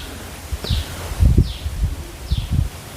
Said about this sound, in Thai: ท่านผู้ชมได้ยินเสียงลมไหมคะน่ะ ป้าเอา ลมแรงมากพ่อ